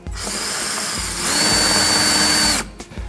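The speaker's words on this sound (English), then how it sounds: "The screw goes down in place, and then the whole thing is drilled down into position." A power drill drives a screw down to fix a lug fitting in place, a steady loud whine that rises in pitch and strain midway before cutting off abruptly, with no voices.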